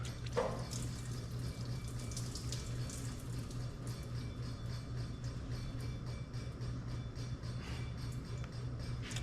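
Water drains steadily from the carburetor of a 1972 Allis Chalmers M65 road grader, a continuous close splashing trickle that runs through the whole stretch with no talking.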